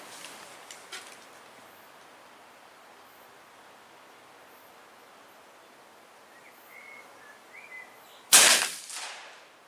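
A single subsonic suppressed .308 rifle shot cracks sharply near the end, loud against a faint hiss, followed by a brief fading echo.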